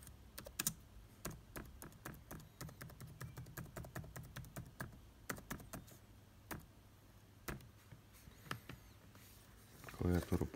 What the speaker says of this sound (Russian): проверим работоспособность клавиатуры.